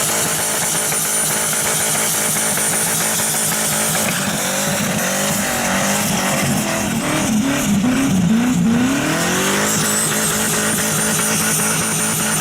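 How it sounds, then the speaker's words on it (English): Loud, continuous roar of a car doing a burnout at a gender reveal, engine straining with wailing tire squeal rising and sliding through the middle, close and unbroken, with no talking. "Insert video of the gender reveal burnout"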